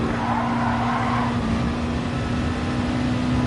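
A Group 2 racing car drives in a racing video game, its engine a loud, constant drone with a steady tone and faint tire noise, with no letup throughout.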